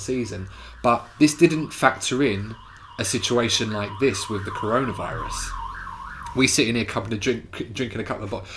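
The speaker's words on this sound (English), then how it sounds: "but we had an ambulance going past." An ambulance siren wails in a steady rising and falling pattern as it passes along a main road, sustained beneath continuous close conversation between men indoors.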